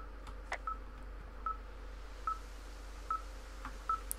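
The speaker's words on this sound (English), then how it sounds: "this thing is losing its mind, beeping like crazy" A faint electronic beep repeats at a steady pace, about once per second, over a low constant hum.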